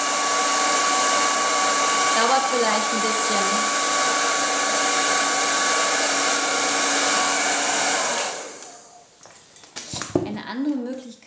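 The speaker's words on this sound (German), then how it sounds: "Das ist also eine andere Methode, wie man die Maske trocken föhnen kann." A hair dryer blows with a steady loud whoosh to dry a fabric face mask for about eight seconds, then switches off, followed by handling clatter; someone speaks briefly in German over it.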